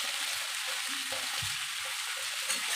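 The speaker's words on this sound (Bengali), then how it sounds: "তো দেখুন আমি সব কিছু ভাজা ভাজা করে নিচ্ছি।" Spices frying in a pan for mutton kosa, a steady close hiss of sizzling oil with soft scraping stirs throughout and no talk.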